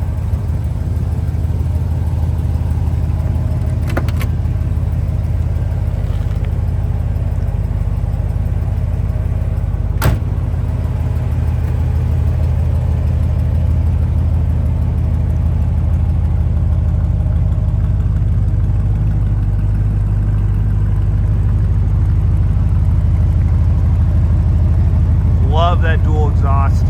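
A 1967 Buick GS400 convertible's 455 V8 idles through dual exhaust with a deep, steady rumble throughout, with a few faint clicks and a brief squeak near the end.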